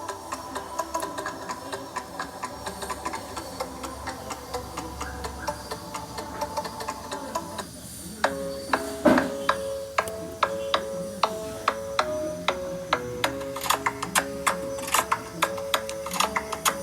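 A Shape of You ringtone plays alone: soft, sustained tones for the first eight seconds, then the familiar plucked, marimba-like riff repeating in a steady, clicky rhythm, close and moderately loud.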